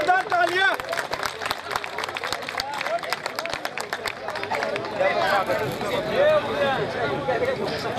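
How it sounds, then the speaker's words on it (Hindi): Loud applause breaks out at a Jaipuri Luhar Samaj community meeting, sharp clustered claps rising over a crowded room, with voices and chatter filling the hall as the clapping carries on. "जोरदार तालियां"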